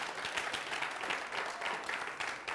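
Sustained applause from a TV studio audience, dense and steady clapping filling the whole stretch without pause.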